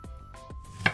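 A knife chops a pineapple into cubes, with three sharp, distinct strikes against a cutting board, close and clear, with no talking.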